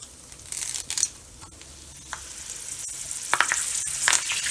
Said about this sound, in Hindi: अब इन सब को थोड़ा फ्राई कर लेंगे अच्छे से। इन्हें 1-2 मिनट ही फ्राई करना है।